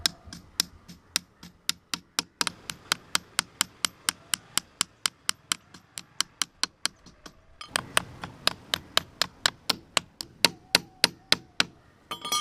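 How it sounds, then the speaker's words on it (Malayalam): Sharp, steady hammer blows drive nails into wood while a simple pigeon cage is being built, dozens of close, evenly spaced strikes with a brief pause partway through. "ഇതേപോലത്തെ ഒരു ആണി എടുക്കുക, പതുക്കെ അടിച്ചു കൊടുക്കുക"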